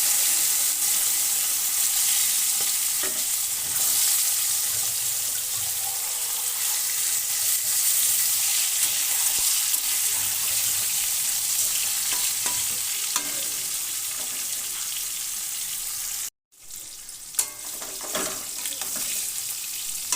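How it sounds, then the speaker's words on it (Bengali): Hilsa fish pieces coated in salt and turmeric fry in hot oil, a dense continuous sizzle with scattered pops and occasional utensil clinks, a brief cut of silence near the end before the frying resumes. "লবণ হলুদ মাখানো মাছ ভেজে উঠিয়ে নেব।"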